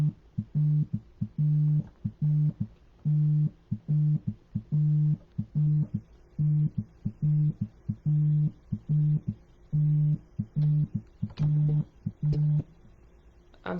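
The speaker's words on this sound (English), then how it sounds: "I had a phone call come through." A busy-signal style telephone tone cuts into the recording as a call comes through, steady beeping pulses repeating in a regular on-off rhythm for the whole stretch, loud and close with no talk.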